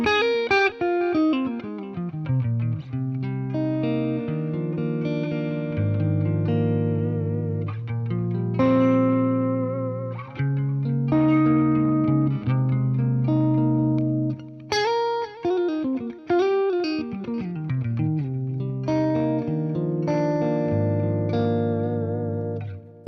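An electric guitar through a Boss Blues Driver overdrive pedal and Fender Deluxe Reverb amp plays sustained chords and short melodic phrases, warm overdriven tone ringing out with slight chorus and no talking.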